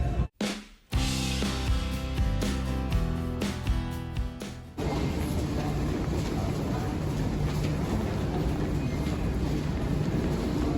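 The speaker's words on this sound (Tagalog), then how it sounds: "nandito na kami sa tren" Interior of a moving train in Dubai, a steady loud rumbling ride noise filling the whole clip, with a brief sharp burst and a tonal shift partway through as the running sound changes.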